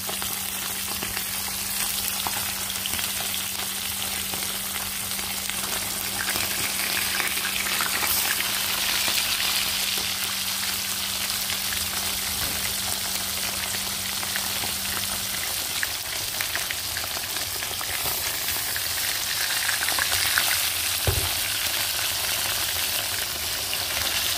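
A large Arabian Sea fish caught on a hook and line fries in hot oil, giving a steady, close hiss and crackle that runs without a break, with no talk over it and a brief knock near the end.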